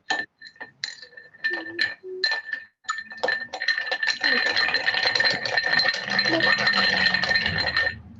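A cocktail is poured back and forth between glasses, with bright clinks and rattles of glassware in the first few seconds giving way to a dense, busy clatter and murmur of a class mixing drinks together.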